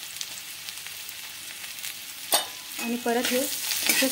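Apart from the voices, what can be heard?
paneer being stirred and fried in a pan with a spatula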